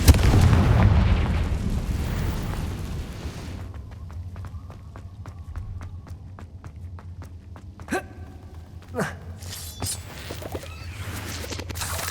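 Fiery Confringo blast spell in Hogwarts Legacy, a loud rumbling burst at the start that fades into crackling debris and quieter scattered impacts, with a couple of sharp hits later on.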